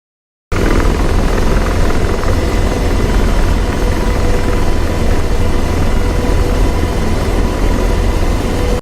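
A video-game AH-64D Apache helicopter drones loudly and steadily, its dense rotor and engine roar filling the whole stretch without a break.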